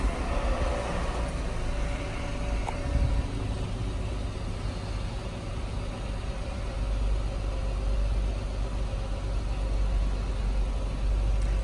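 A Chrysler vehicle's engine idles steadily in a workshop, a low continuous rumble holding even for the whole stretch with a faint brief click early on, no voices over it.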